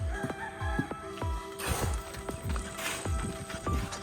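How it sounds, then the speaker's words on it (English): A chicken in the Philippines, kept among fighting chickens, clucks repeatedly in short, evenly spaced calls, close by and clear over a busy outdoor background with a brief burst of broadband noise midway. "My little chicken here, she's really enjoying life."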